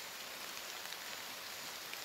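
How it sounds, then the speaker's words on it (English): Steady rain falling on the jungle at Palepsama village in South West Papua, a soft, even hiss of drops with no voices, continuous and fairly quiet throughout. "because it's raining, start from evening until this morning, still raining"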